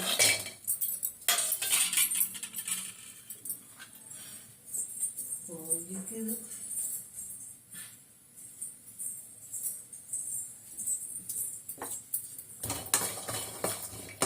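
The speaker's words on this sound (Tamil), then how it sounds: "கடாய் நல்லா ஹீட்டாக இருக்கும். டக்கு டக்கு டக்குன்னு வறுபட்டுடுது." Walnuts rattle and scrape in a hot pan as a spoon stirs them, with clinking metal and a faint sizzle throughout, close up.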